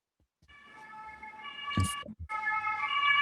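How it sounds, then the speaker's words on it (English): A sustained two-tone emergency siren wails at moderate distance, cut briefly by a couple of low thumps before it continues steadily. "the siren is appropriate"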